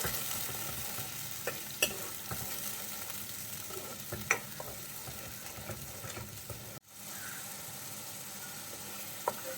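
Tomatoes frying in oil in a pan as they cook down: a steady, soft sizzle and bubbling throughout, with occasional scraping stirs and small clicks close by.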